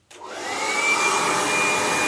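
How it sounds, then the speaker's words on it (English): A hair dryer blowing on a beard during home grooming switches on and runs as a steady, loud, close whoosh with a high whine, and no one speaks. "Pinch, twist, and use your dryer."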